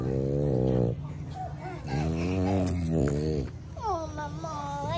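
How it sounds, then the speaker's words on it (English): A dog close by whimpers and makes whiny, growly vocalizations in several stretches, with someone talking around it. "Let me see the dog."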